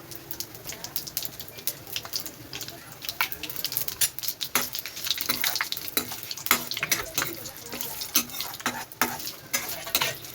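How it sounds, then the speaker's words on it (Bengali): Panch phoron spices go into hot oil that already holds dried chillies and bay leaves, sizzling and popping softly alongside scattered clinks from a spoon in the pan, close by and moderately loud. "এখন আমি অল্প পাঁচফোড়ন দিয়ে দেব।"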